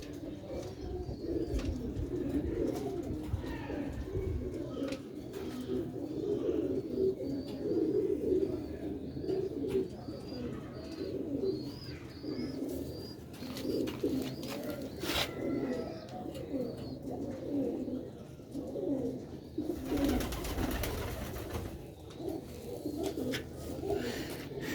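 Soft, repeated cooing of Sialkoti pigeons fills the clip, several birds murmuring steadily at close range, with faint chirps and a brief noisy burst near the end.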